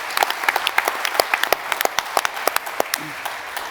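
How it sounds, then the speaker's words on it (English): Audience applause at a business pitch-competition event: dense, steady clapping from a crowd fills the whole stretch, with sharp individual claps standing out near the front and no talk over it. "give her a round of applause"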